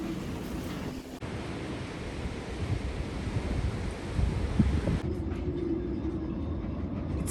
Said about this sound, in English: the gusts started to increase up to 30 knots